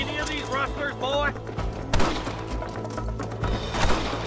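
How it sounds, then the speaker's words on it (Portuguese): Gunfire in the Western video game Red Dead Redemption: a few sharp shots and thuds crack through the game soundtrack while characters talk. "Are you gonna shoot any of these rustlers, boy?"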